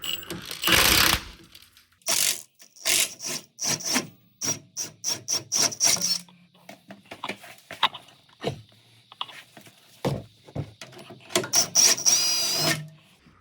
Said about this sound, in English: This is a 19 millimeter, so I got my impact